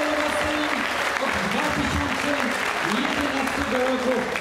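A crowd applauds a candidate at a Polish political rally in Płock, dense continuous clapping filling the whole clip, with an amplified voice and a sustained tone running faintly beneath.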